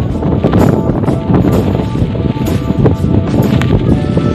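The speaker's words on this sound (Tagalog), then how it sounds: "Grabe lakas ng hangin. May bagyo kasi ngayon" Strong typhoon wind gusts hard against the microphone outdoors, producing a loud, continuous buffeting rumble with uneven surges.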